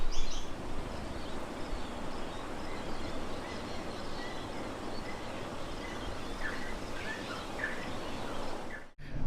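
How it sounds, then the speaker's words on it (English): Birds call across a park setting in Cairns, Australia, a dense chorus of chirps and squawks layered over constant background noise, with a few sharper calls standing out near the end before the sound cuts briefly. "Those birds in Australia, man."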